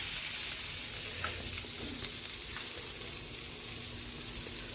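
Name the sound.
butter sizzling in a pan for sautéing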